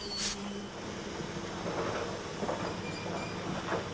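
A steam locomotive running on a single working piston hauls an extra-heavy train of armor rock, a continuous rumbling roll with faint rail clatter and a brief squeal near the start, no voices.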